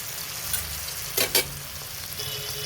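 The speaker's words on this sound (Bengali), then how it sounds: "এই তেলে আমি মশলাটা দিয়ে দিয়েছি" Cumin, dried red chilli and ginger sizzle in hot oil, a soft steady fry broken by two quick sharp scrapes of a spoon against the pan near the middle.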